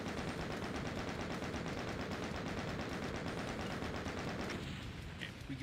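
Rapid automatic gunfire in the video game Doom rattles continuously in a dense, fast burst, loud and mechanical, easing off slightly just before the end.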